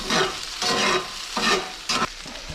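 Yellowstone cutthroat trout stir-frying in a pan, with repeated bursts of scraping and stirring over a steady sizzle of frying oil, close and fairly loud, no voices.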